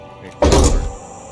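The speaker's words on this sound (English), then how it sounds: "You close the rusty old lorry door." A single heavy thunk as a rusty old lorry door slams shut in the video game Disco Elysium, short and close, set over a low ambient background.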